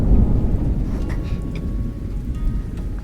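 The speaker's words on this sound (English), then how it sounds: "I'm glad you like the ambient rain sounds" Steady rain with a deep low rumble of thunder fills a lo-fi ambient backdrop, a dense continuous hiss and roll that stays fairly loud and even throughout, with no talking.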